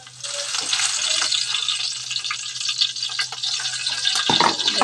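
Red chilli powder, turmeric, crushed masala and curry leaves dropped into hot oil for a fish curry, giving a loud, continuous bright sizzle and crackle with occasional stirring clinks, no talk.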